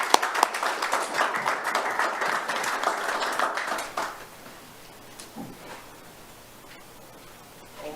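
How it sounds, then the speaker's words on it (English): A city government meeting audience gives applause for Spencer, a Rock Star of the Month nominee, in a sustained round of clapping that fades out after about four seconds into quiet room tone with a few small knocks. "A big round of applause for Spencer."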